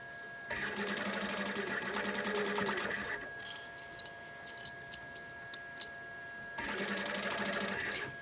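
A sewing machine stitching heavy fabric for a bear-appliqué pouch runs in two loud, fast whirring bursts, separated by a pause filled with small clicks and handling noises, close to the listener.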